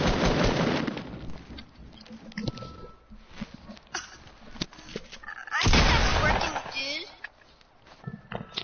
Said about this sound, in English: Quit shooting me. Quit shooting me? Stop shooting.